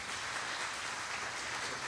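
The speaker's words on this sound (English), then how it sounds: "Let's give them a little applause." Applause from a church congregation for the worship ensemble, a steady wash of clapping that fills the room at moderate level throughout, with no voices on top.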